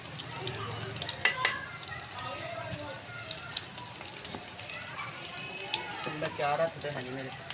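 Potato tikki patties frying in a pan while being turned, giving a steady close sizzle with scrapes and clatters of utensils, and someone talks over it.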